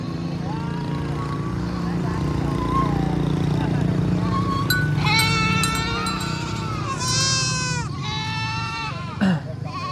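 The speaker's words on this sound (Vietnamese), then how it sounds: "Hai con dê con nó đứng đẹp không đây." Goats bleat repeatedly at a busy goat market, several loud wavering calls close by in the second half, over steady crowd chatter and background noise.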